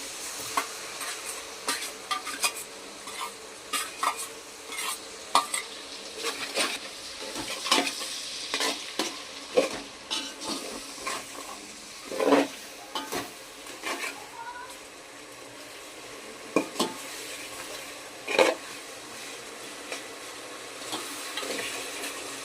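Spice masala for mutton biryani fries in oil with tomato and onion while being stirred, a steady close sizzle broken by repeated irregular scrapes and knocks of a spoon against the pot over a long stretch.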